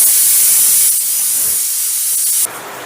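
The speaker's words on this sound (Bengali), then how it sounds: "এবারে প্রেসার কুকারটা গ্যাসে বসিয়ে দিয়ে 4টে সিটি দিয়ে নেব।" A pressure cooker sits on a gas stove, loudly and steadily hissing steam with a bright, sustained high edge, then drops abruptly to a quieter hiss near the end.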